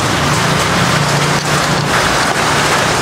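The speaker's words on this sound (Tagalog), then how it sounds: "Tapos, umuulan-ulan pa." Steady rain falls outdoors in bad weather, a dense, even hiss of drops hitting surfaces, loud and continuous with faint rumbling underneath and no voices.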